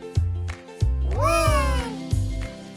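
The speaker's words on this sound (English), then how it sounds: "One little kitty." A cat meows loudly and close, one drawn-out rising-then-falling call, amid a backdrop of rhythmic thumping music with repeated low beats.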